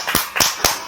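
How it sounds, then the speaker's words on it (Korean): A few sharp, separate claps from one person right up close, spaced at an uneven pace in a quiet room during an introduction. "박수!"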